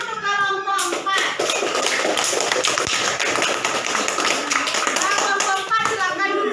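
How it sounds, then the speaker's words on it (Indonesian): Classroom of children clapping for a student group, a busy burst of hand claps with scattered taps and shuffling, brief children's voices and an adult's voice heard at the start and end. "Tepuk tangan dulu untuk kelompok 4"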